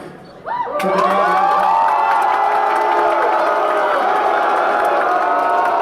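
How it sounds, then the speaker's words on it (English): A large crowd at a live political debate event at Politicon 2017 erupts suddenly into loud, sustained shouting and jeering, a dense roar that holds steady after the onset. "they booing him. They booing Cenk."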